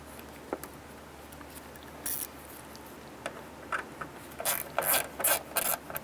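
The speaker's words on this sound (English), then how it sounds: "install your two screws." Ratchet clicks come in short, scattered bursts, growing busier toward the end, as the two tail light screws go into the body of a 2002-2007 Jeep Liberty; close and fairly quiet.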